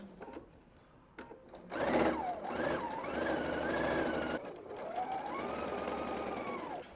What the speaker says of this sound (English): I sewed all the way around my side seam